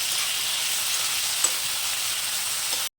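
Tomato pieces sizzle and crackle steadily in a hot pan for a village-style tomato and green chilli chutney, with a brief stir tap midway, then cut off abruptly.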